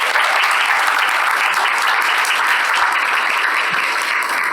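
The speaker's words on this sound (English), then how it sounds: "If you want to give a round of applause." An audience at a board meeting claps continuously for a spelling bee winner, a steady, fairly loud patter of applause with no voices rising above it.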